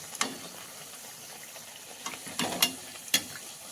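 Fenugreek puris frying in hot oil, a faint crackling sizzle with a few brief clinks of a slotted spoon, close and quiet.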